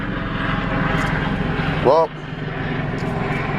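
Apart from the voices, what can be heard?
helicopter flying overhead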